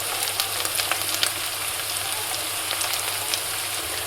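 Ginger and green chillies frying in hot oil, a steady, soft crackling sizzle with faint scattered pops, continuous and close.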